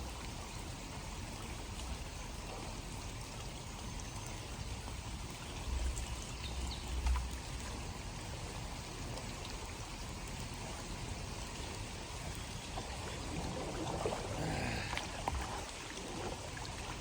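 Rain falls steadily while fishing for catfish outdoors, a constant moderate hiss and patter with a few faint bumps and splashes, continuing unbroken throughout with no voices.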